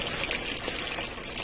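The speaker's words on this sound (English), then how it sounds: "Now I'm going to add in 8 cups of beef broth." Beef broth pouring from a carton into a soup pot, a continuous splashing gush of liquid at close range.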